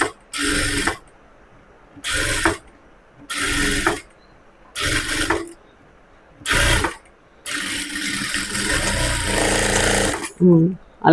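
A sewing machine stitches along the top edge of a frock in short repeated bursts, each run of rapid mechanical clatter stopping and starting, then one longer steady run near the end.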